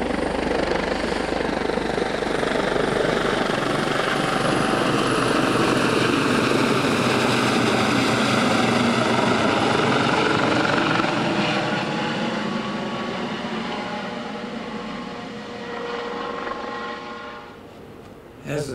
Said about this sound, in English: And we have the helicopter.